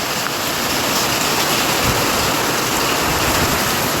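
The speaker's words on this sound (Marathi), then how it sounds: "गाराचा पाऊस आहे" Heavy unseasonal rain mixed with hail pours down in a dense, continuous roar of drops hitting surfaces, loud and close with no break.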